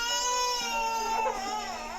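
Several babies among quadruplets cry at once, a loud, sustained, high wailing that stays steady for the whole moment without pause, with no talking over it.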